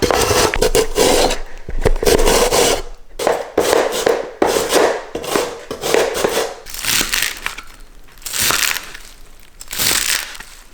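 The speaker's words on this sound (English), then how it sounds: "With the grater, I'm going to slice up the carrots." Carrots grated by hand on a grater for egg rolls: loud, close crunching rasps in uneven bursts with short pauses between strokes.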